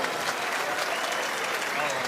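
A pétanque crowd at a masters final applauds a shot, with continuous close, dense clapping throughout and voices talking over it.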